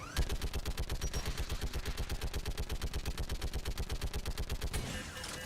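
Mounted turret in Mass Effect firing a steady rapid burst, dozens of evenly spaced loud shots at close range, which stops abruptly near the end.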